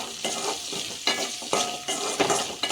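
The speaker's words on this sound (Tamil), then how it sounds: "இப்போ அதெல்லாம் சேர்த்துட்டு நல்லா வதக்கிடுவோம்" Coconut pieces are sautéed in a hot pan for a cowpea curry paste, with a steady sizzle broken by several distinct scraping stirs of the spoon, close and clear with no talking.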